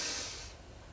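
A single breathy inhale during a kundalini yoga exercise, close and soft, fading out after about half a second.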